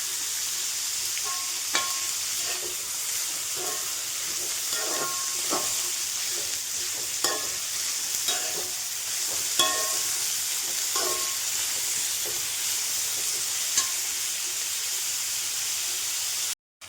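Onions sautéing with salt in a pan, a steady soft sizzle throughout with occasional stirring clicks and scrapes of a spoon against the pan, no talking.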